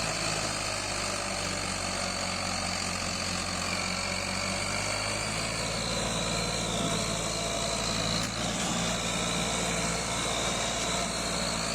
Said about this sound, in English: here we have a Ford 3610 tractor